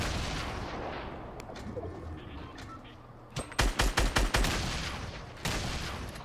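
Gunfire in the video game Fortnite: after a quieter stretch of scattered shots, a rapid burst of about six loud cracks lands in quick succession, followed by another single sharp shot, fairly close.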